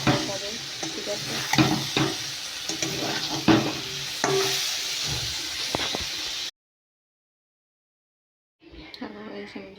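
A vegetable curry sizzles in a pan as it is stirred, with scraping and clinks of the spoon, a steady frying hiss close up, then a sudden silence and a short return of sound.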